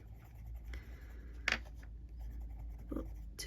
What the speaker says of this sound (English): we're just going to burnish the centres